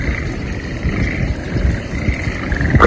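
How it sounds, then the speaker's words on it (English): A dense chorus of frogs along the Kumano Kodo pilgrimage trail in Japan, a steady, continuous mass of overlapping croaks and trills at moderate loudness with no talking, filling the whole stretch without pause. "Incredible singing of frogs."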